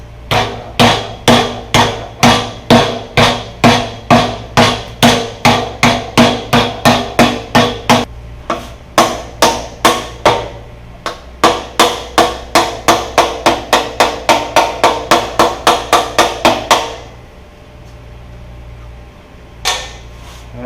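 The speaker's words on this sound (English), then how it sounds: "Got it clamped down, see if we can bend these pieces." Clamped metal flanges are struck over and over to bend them: a long run of loud, evenly spaced, ringing blows with one short pause. The hammering stops near the end, leaving quiet shop ambience.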